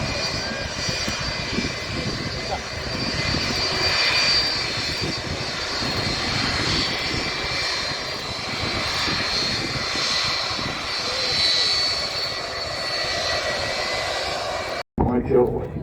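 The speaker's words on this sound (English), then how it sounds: "we have another flyover to our left, just approaching over the top of the control tower" A fixed-wing aircraft passes over the control tower at Manchester Airport with a steady, loud engine roar that holds throughout, while someone talks over it.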